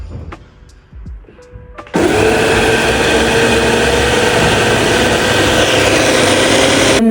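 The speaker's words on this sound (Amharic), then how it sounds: "ሁሉንም ከጨማመርን በኋላ እንፈጨዋለን።" A blender grinding ingredients with black pepper, salt and olive oil starts abruptly after quiet handling noises, then runs as a loud, steady, high-pitched whir without a break.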